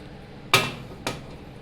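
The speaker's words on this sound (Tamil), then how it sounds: "பணியார சட்டியை இப்போ நம்ம எடுத்துக்கலாம்" Two sharp metallic clanks, about half a second apart, as a paniyaram pan is picked up and handled in a home kitchen while making sweet egg paniyaram. The first knock is louder, the second lighter, and each stands alone against quiet room tone.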